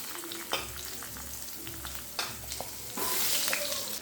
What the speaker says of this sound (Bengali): তেলের মধ্যে আমি ভেজে নেব কিছু বেগুন